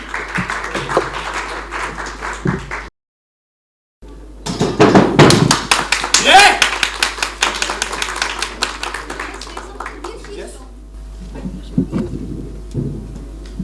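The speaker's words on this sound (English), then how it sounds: "Give a big round of applause for a martial artist, Nelofar Sherazi" An audience claps for martial artist Nelofar Sherazi on stage: steady clapping, then a brief silence, then a loud, dense burst of applause that gradually thins and fades, with some voices mixed in.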